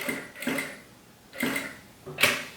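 A home sewing machine stitches back over a seam while making an insulated bag, running in three short bursts with pauses between, the last burst brighter and sharper, close and fairly quiet.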